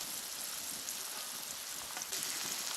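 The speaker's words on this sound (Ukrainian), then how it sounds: "Смажимо по 2-3 хвилини з кожної сторони на середньому вогні." Zucchini slices fry in a pan over medium heat, giving a faint, steady crackling sizzle like light rain that runs throughout with no talking.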